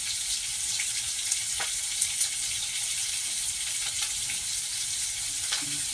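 Rui fish paturi mixture frying with freshly added raw oil, a steady close sizzle and crackle with faint stirring clicks throughout, no talking.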